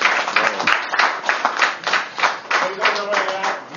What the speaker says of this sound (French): Donc, applaudissez à nous.